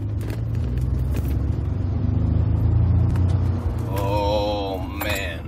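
Ford F-150 truck with a 3.5L EcoBoost engine driving under load, a steady loud low rumble of engine and road noise throughout, with some brief tonal whines near the end.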